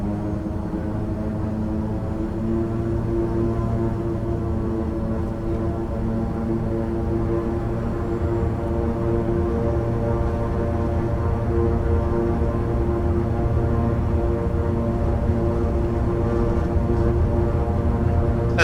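Turboprop airliner engines roar steadily through a takeoff run in Microsoft Flight Simulator on a Nagasaki to Tokyo flight, a loud, constant droning hum with layered tonal whine that holds evenly throughout, with no one speaking.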